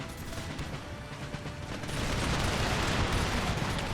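Musket volleys crackle and rumble on an Empire Total War battlefield, a dense continuous fusillade that swells louder partway through, with no voices over it.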